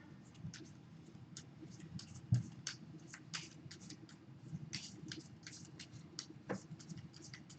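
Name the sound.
shuffling Dominion playing cards, discard pile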